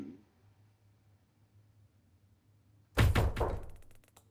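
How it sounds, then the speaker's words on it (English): After a quiet stretch, a loud, close knock on a door in the video game MiSide lands as a cluster of heavy thuds that quickly fade. "suddenly, my friend's blabbering was interrupted by a rather loud knock on the door"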